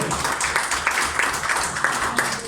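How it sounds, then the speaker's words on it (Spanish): A church congregation applauds in a steady, moderately loud patter of clapping with faint rhythmic accents, filling the room without talk. "Dele un aplauso al Señor, iglesia."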